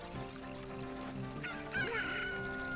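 A cucco chicken in the video game Ocarina of Time crows loudly over a layer of game music, with a rising call in the second half. No one talks.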